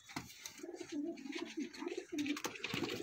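Pigeons of a golden pair breed with red eyes and white beaks coo in soft, repeated low throaty phrases, close by, steady through the whole stretch with no talk.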